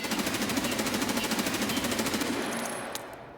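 M4 rifle in Escape From Tarkov firing a sustained full-auto burst, rapid evenly spaced shots that are loud and close and run for about three seconds before tailing off.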